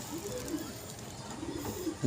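Soft, low coos from a male pigeon repeat quietly a few times over faint background hiss, with a slightly louder coo at the very end.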